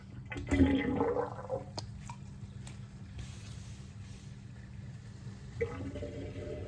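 Water drains from a lavatory sink through the overflow, a gurgling rush of water pulling air behind it that fades to quiet trickles, with a brief gurgle again near the end.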